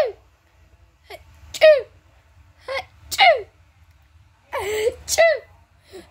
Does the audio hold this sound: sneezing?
yes